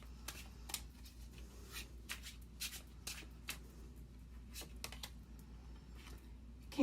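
Tarot cards are shuffled and drawn close up, giving soft, quiet riffling and light taps at irregular intervals with no talking.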